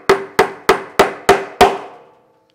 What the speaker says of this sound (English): And then we can hammer off our first nail.